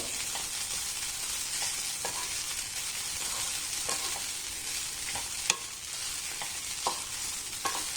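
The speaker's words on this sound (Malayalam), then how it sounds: "ഇനി ഫ്ലെയിം ഒരുപാട് കൂട്ടി വെക്കണ്ട മീഡിയത്തിൽ നിന്നും അല്പം താത്തി വെച്ച് ഇളക്കിയാൽ മതിയേ" Chutney made with Changalam paranda sizzles softly in a pan over a medium flame, a steady, fairly faint frying hiss with a few light clicks of stirring, no talking.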